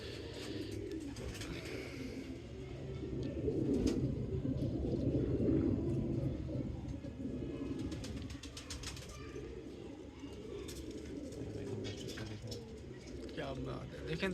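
Rooftop-loft pigeons bred over generations for high flying in Karachi coo steadily in low rumbling tones close by, with outdoor hubbub and occasional background voices throughout.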